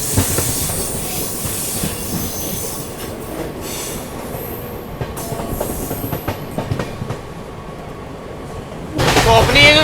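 The Naharlagun–Guwahati Shatabdi Express runs on its rails with a loud rumbling roll, scattered wheel clicks and squeals, and a sudden louder burst near the end; a voice is faintly present.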